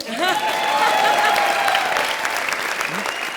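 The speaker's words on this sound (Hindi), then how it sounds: "तू क्यों रुक गया ताली बजाते हुए?" A studio audience applauds on a comedy show, a dense burst of clapping that stays loud throughout while a voice and musical tones sound over it.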